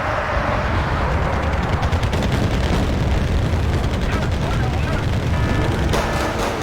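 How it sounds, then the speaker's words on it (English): Artillery fire in the video game Wargame: Red Dragon, a dense continuous barrage of thudding blasts and crackling impacts, loud and steady throughout with no pauses. "Here comes the artillery."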